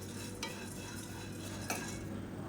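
Barley is dry roasted with pepper and cumin in a pan, with soft continuous stirring and a light sizzle and two brief scrapes of a spoon against the pan, all fairly faint.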